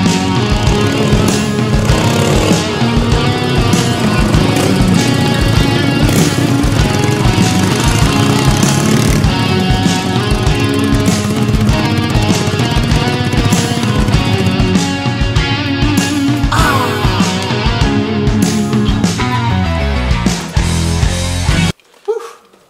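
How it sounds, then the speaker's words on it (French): An old café racer motorcycle engine roars loudly and steadily while riding, close and continuous, then cuts off sharply at the end. "la moto est prête à partir"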